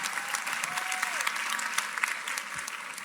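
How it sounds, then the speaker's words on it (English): An audience applauds at a live relationship talk, steady dense clapping filling the whole stretch, with a faint voice briefly audible beneath. "Clap it up, clap it up, clap it up."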